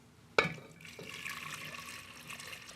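Eight cups of water are poured into a soup pot holding beans and a bay leaf. A sudden splash opens a steady, rushing pour that runs on to the end.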